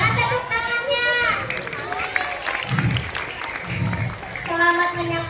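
Audience at a school show clapping for a children's dance performance, a steady wash of applause with children's voices and someone speaking over it, music-like tones at the start and end.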